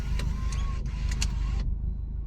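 Nissan 180SX drift car with a 1JZ engine driving on its first outing after years unregistered, a close, steady engine rumble with a faint whine and brief clicks, cutting to a quieter tone near the end.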